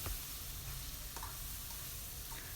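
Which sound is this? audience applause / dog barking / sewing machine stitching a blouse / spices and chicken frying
spices and chicken frying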